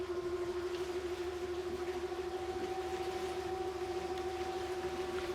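Greenline 40 Hybrid boat engine on the water, a steady tonal drone with a strong sustained hum held at a constant level throughout as the boat picks up speed, no voices over it.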